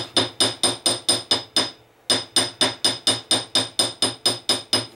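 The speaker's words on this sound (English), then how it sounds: "Now we'll use the peen part of this hammer." Rapid, steady metallic strikes of a hammer's peen on metal wire ring out at a quick even rhythm, with one short pause partway through before the tapping resumes.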